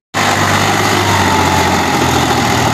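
A tractor stuck in soft soil idles loudly and close, a steady unbroken engine rumble starting abruptly and holding for a few seconds with no talk.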